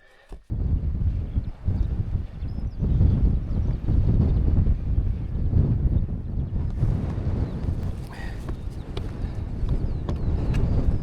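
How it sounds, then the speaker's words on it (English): Wind buffets a mountain top in the fells, a loud, gusting roar that rises and falls across the whole stretch, heavy low rumble with sporadic clattering knocks. "Windy."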